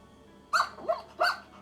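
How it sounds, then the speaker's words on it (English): A corgi's bark plays as a sound effect in a Koala Go playground, two or three sharp, close, clear yaps in quick succession. "Anytime I or my students click on the corgi dog, here's what happens."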